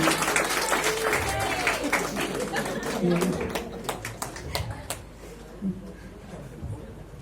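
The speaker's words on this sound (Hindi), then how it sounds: "जोरदार तालियां मैडम जी के लिए।" Audience applause at a community event in India, clapping at moderate distance over the first five seconds and thinning toward the end, with a voice and murmurs mixed in.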